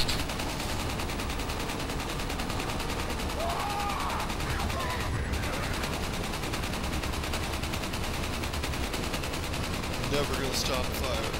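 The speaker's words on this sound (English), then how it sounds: "All those bullets keep on coming towards the screen." Sustained gunfire from Resident Evil 4, a steady stream of rapid shots that runs for the whole stretch at an even level, with faint voices mixed in.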